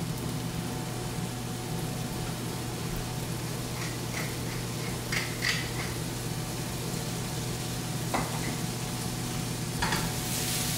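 Asparagus sautéing in olive oil in a pan, a steady, even sizzle with a few faint clinks of a utensil now and then.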